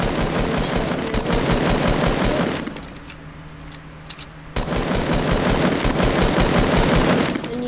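Rapid automatic gunfire in the Fortnite video game, loud sustained bursts that pause briefly midway with a few scattered shots before another long stream resumes; no talking.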